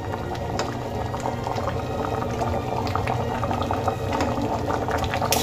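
Green peas and potatoes boil vigorously in a pot, giving a steady close bubbling and gurgling that continues without pause.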